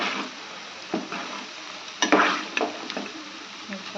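Cabbage pakoda frying slowly in hot oil, a soft steady sizzle close by with a few scraping stirs and clinks of a ladle against the pan.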